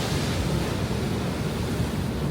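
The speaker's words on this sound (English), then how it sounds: "But the waves, look, come crashing over the top." Heavy sea surf on the Norfolk coast roars in a continuous broad wash as waves crash over a coastal structure, loud and close with wind buffeting the microphone and no voices.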